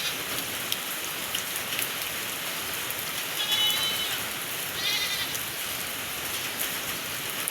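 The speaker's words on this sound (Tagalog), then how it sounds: "Yung panahon ngayon dito, naulan, na araw," Steady rain falling on a farm, a dense even hiss that runs throughout, with a goat bleating faintly twice in the background.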